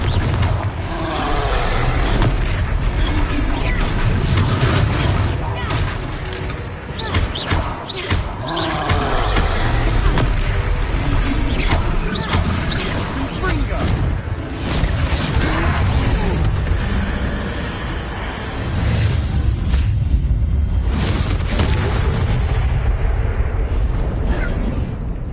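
Repeated Confringo blasting-spell explosions during a troll fight in Hogwarts Legacy, a long run of loud booming bursts and crashes with brief dips between them, close and forceful.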